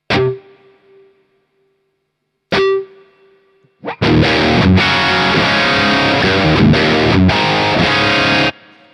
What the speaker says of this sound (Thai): ฟังเสียงรีเวิร์บนะ